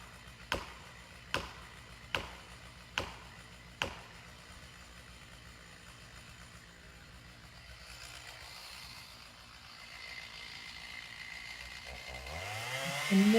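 Five sharp, evenly spaced strikes ring out as metal wedges are hammered into a tree being felled, then a chainsaw engine rises and revs loudly near the end.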